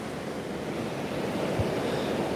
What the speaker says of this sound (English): See a nice little waterfall here.